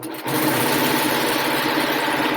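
A Brother sewing machine runs steadily, stitching half square triangles for a quilt along a drawn line, a close, continuous mechanical whir lasting the whole stretch.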